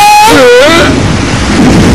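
Cartoon rainstorm with steady, loud rain and a rumble of thunder, heard just as a gliding tone fades out at the start.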